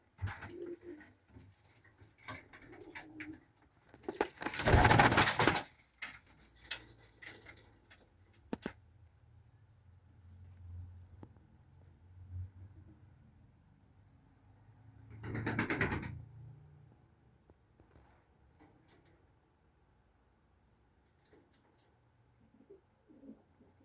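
Soft pigeon cooing with low, rolling calls, broken by two loud flapping or rustling bursts nearby; otherwise a quiet setting.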